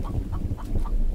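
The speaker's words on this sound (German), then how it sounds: "Guck mal, hier ist ein Huhn." A chicken in the survival game The Infected clucks in a quick run of four or five short, evenly spaced clucks over a low background rumble.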